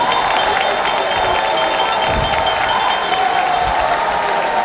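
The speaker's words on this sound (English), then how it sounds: "A round of applause for him, ladies and gentlemen." An audience at a political party launch event in Ghana applauds and cheers in a steady, dense roar of clapping and crowd noise with voices mixed in, loud and continuous throughout.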